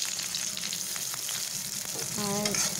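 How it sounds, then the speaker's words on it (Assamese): Sliced onions crackle and sizzle in hot oil with dried red chillies and panch phoron, a close, steady frying hiss with faint stirring scrapes and no talking. "এইখিনি ভালদৰে ৰঙচুৱা হোৱালৈকে ভাজি ল'ম"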